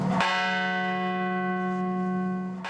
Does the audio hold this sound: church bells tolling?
yes